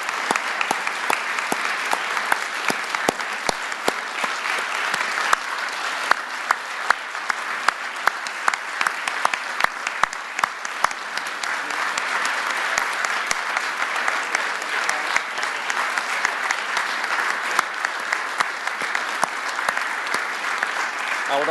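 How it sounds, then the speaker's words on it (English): Audience at a cabinet swearing-in ceremony applauding steadily for over twenty seconds, a dense sustained wash of clapping from a large indoor crowd without pause. "let's give all these cabinet members a round of applause"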